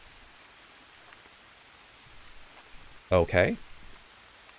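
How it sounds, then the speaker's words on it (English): Steady rain falls in the Green Hell jungle survival game, a soft continuous hiss throughout, with a brief spoken word cutting in near the end. "It's also raining as well too, which is nice."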